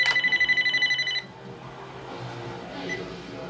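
A telephone rings in a rapid, bright, trilling burst for about a second and then stops, leaving faint room noise behind.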